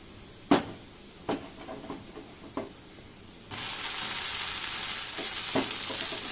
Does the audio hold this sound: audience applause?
no